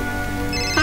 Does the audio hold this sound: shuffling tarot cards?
no